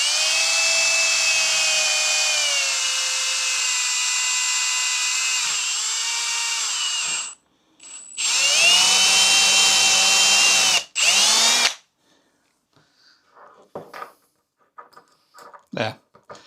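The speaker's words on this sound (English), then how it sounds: "you're going to have to just run the drill very carefully through the rest of it" A power drill with a 14 millimeter bit whines steadily for several seconds while drilling through an electrical enclosure, bogging down briefly and restarting, then stops; scattered clicks and handling noises follow.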